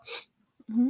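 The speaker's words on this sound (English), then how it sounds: "Bless you." A person sneezes once, a short sharp burst, followed by a brief pause and then a voice speaking close by in a talk-show setting.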